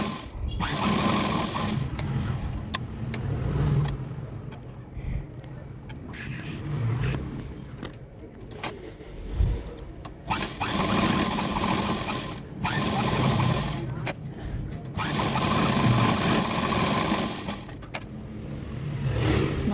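A sewing machine stitches a blouse sleeve in repeated bursts of rapid mechanical whirring, with short pauses between runs, close and fairly loud throughout.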